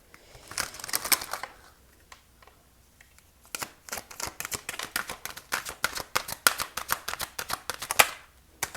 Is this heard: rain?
no